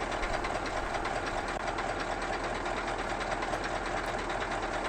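A Scania fire engine running in a truck simulator game, a steady droning engine hum with a fine rapid mechanical chatter, constant in level throughout and heard alone.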